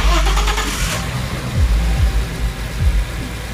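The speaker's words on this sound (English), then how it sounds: "I turn the car back on." A 2001 Audi S4 2.7-litre twin-turbo engine with a cylinder misfire cranks briefly and catches, then settles into a rough idle with a couple of small revs, heard up close.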